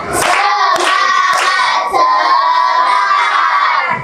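A classroom of children does a rhythmic spirit clap, with loud, sharp claps landing in a quick pattern over the whole group's continuous shouting and chanting.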